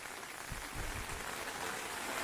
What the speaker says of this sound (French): Et c'est le réveil par la pluie.